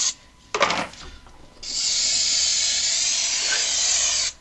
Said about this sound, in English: And then just do a final clean with brake clean.